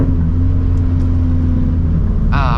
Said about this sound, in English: I'm going through the gears effortlessly.